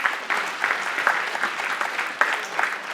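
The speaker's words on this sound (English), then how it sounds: "you gotta clap it up one more time for the groups" Audience clapping for student groups at a summer program finale, a steady patter of many hands with a few louder bursts, fairly close and on its own without talk.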